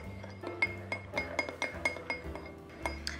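Peppermint oil hair mixture being stirred in a glass container, giving a steady run of bright clinks and taps against the glass, close and fairly loud, with no talking.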